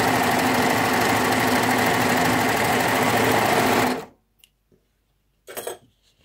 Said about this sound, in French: Dernière version, je couds sur l'endroit cette fois-ci.